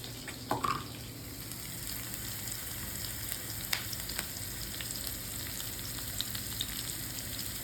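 A tadka of garlic, green chilies and hing sizzles in hot oil for a spinach and masoor dal dish: a soft, steady frying hiss, faint and close, with a few small clinks and pops.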